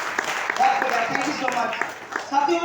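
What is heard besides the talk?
audience clapping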